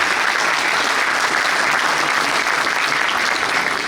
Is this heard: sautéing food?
no